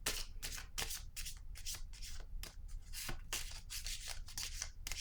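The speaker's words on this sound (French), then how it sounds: "Attendez, je vais piger une autre carte." Close, quiet shuffling and rubbing of a deck of cards as cards are handled and drawn, with a rapid run of papery swishes and flicks throughout and no speech.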